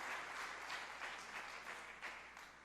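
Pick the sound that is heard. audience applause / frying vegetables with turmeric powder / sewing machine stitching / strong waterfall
audience applause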